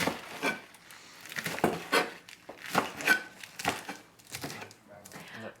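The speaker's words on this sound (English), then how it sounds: "We have gone ahead and sliced and chopped everything up for the braise" Knife chopping vegetables for a braise on a wooden cutting board, a series of sharp irregular knocks and slices close by, quiet between strikes, with no voices.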